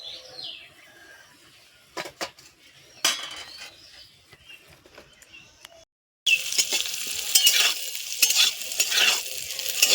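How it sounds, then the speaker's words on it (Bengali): Figs and kochu lati (taro stolons) frying in a pan until reddish: a few scattered clinks of a utensil against the pan, then a loud, steady, close sizzle with continuous stirring and scraping, and no talking. "দেখো ভালো করে ভাজা ভাজা হয়ে গেছে লাল লাল করে নিয়েছি"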